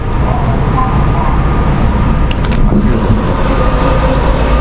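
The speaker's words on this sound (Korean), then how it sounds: "와, 여기 기차 탔는데" Steady rumble and rattle inside a moving train carriage on a small-town trip near Uji, Japan, loud and continuous with a few brief clanks and faint voices in the background.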